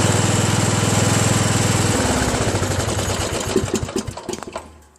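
A Craftsman LT1000 lawn tractor with a 15.5 hp Briggs & Stratton engine runs close by, a steady, loud, rapid putter for about two seconds that grows rougher and more uneven, then fades as it winds down.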